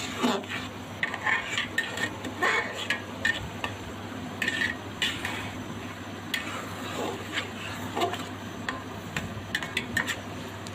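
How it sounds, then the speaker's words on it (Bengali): A spoon stirs bhuna khichuri in a cooking pot on a heavy tawa, giving repeated close metal scrapes and clinks over a constant low burner hum, no talking. "আমি খিচুড়িটাকে আবার একটু নাড়াচাড়া করে দিচ্ছি"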